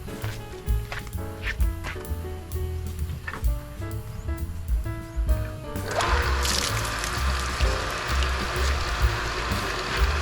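A Pedrollini JET100 1hp self-priming water pump kicks on partway through and runs with a loud, steady broadband rush of motor and water, replacing the quieter mixed sounds that came before.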